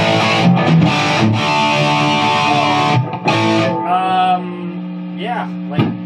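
Electric guitar played through a Marshall Plexi amplifier at high gain, loud and thick with distortion, sustained chords ringing alongside brief bent single notes and short pauses, with no talking.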